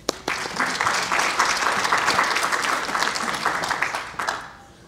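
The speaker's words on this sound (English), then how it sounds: "give Larry a round of applause" A conference audience at a civics event gives a speaker a round of applause: dense, sustained clapping from a crowd in a hall, starting sharply and holding steady for several seconds before fading out.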